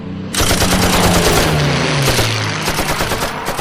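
Rapid machine gun bursts from a P-47 fighter aircraft strafing over Zapote, east of San José, Costa Rica, loud and continuous, with dense rattling fire sustained throughout and no voices.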